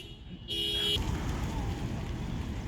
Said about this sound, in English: I can't talk through car alarms.